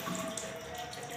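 Water running steadily from a hand pump, a continuous splashing flow at close range with no talk over it.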